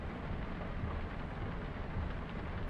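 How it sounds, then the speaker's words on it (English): A hail storm in Farming Simulator 25 makes a steady, dense rattling hiss like heavy precipitation pounding a surface, continuous and even throughout with no talk. "hail, doesn't it?"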